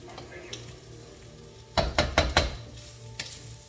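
Onions and kimchi fried rice hitting a hot pan on an electric stove, a low steady sizzle building into a burst of several sharp crackling pops and clatters near the middle, then easing back to a quiet fry.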